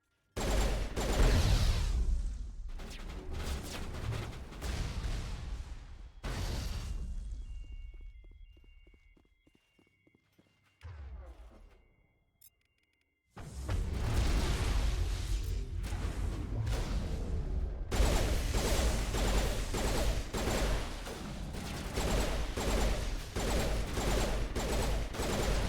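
Bursts of rapid turret gunfire in Mass Effect, loud clattering volleys that cut out into near silence with faint electronic tones, then resume as sustained heavy firing to the end, with no talk.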